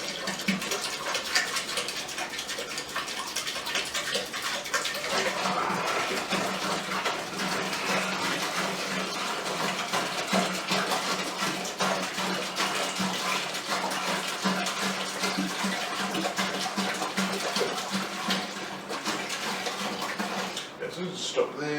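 Hot and room-temperature water pours steadily into a beer brewing vessel while making a Muntons Cerveza kit, a continuous close gushing splash that runs throughout, louder after the first few seconds, with a person talking over it.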